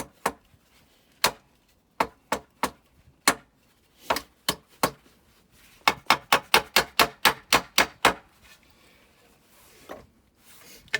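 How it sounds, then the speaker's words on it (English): Hammer striking pallet boards to pop nails loose, sharp close metallic-wooden blows, spaced at first, then a rapid burst of about ten quick hits, then quiet. "How I remove these is with the hammer."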